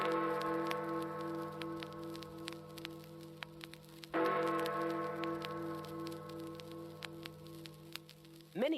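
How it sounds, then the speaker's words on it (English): Two deep, resonant strikes of the Big Ben clock bell a few seconds apart, each ringing out with a long humming decay, plus faint scattered ticks and a brief rising tone at the end. "In England, there is a famous clock called Big Ben. He sounds like this."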